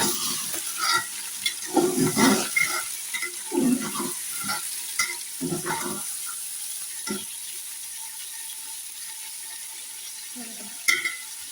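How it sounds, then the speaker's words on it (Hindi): Chicken frying in a pan for desi biryani while being stirred, with a soft constant sizzle and bursts of scraping, clattering stirring strokes in the first half that thin out to quieter frying, close up, no talk. "चिकन की भुनाई हो गई"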